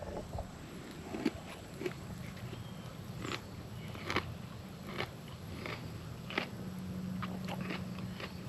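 Chewing on a hot dog kebab with tangy sauce at a solo camp, a string of close, moist bites and crunchy chews at irregular intervals over a faint outdoor background.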